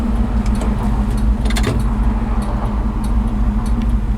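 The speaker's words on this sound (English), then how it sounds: "So turn signals work." Turn signal of a 1968 Ford F250 truck ticking at a steady rhythm during a test drive, faint and close inside the cab beneath the constant low drone of the running engine and road noise.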